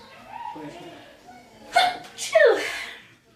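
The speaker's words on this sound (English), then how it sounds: "sorry you guys, I gotta sneeze" A single sneeze bursts out after a quiet, hesitant breath and a soft vocal sound, followed by a brief trailing exhale.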